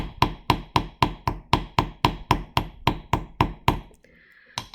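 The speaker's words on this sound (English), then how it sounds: "switch to the planishing hammer." Planishing hammer striking a metal teardrop pendant in a steady run of about sixteen sharp, ringing taps, close and evenly paced, then a brief pause before one last strike.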